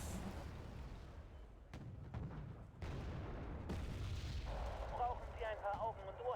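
Mortar and tank gunfire in a tank combat video game: a dense, continuous barrage of booming blasts and rumbling detonations with sharp cracks near 1.7 and 2.8 seconds, loud and close throughout.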